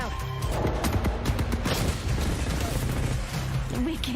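A frag grenade goes off in Apex Legends Season 2 amid a dense wash of gunfire and crashing impacts. The booming blast and rapid bursts are loud and close, packed together over a few seconds.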